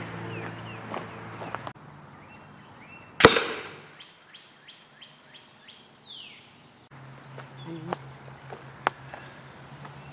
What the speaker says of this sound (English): So I'm gonna fire another one through just to let you hear and see the impact